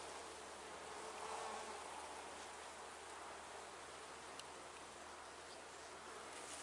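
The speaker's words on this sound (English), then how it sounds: "The bees are nice and calm, which is awesome." A dense, steady hum of many honey bees buzzing calmly around a hive during requeening fills the air, constant and unbroken, with no talking.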